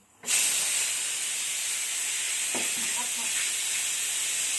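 A pressure cooker bursts into a loud, continuous hiss of escaping steam that holds steady without a break.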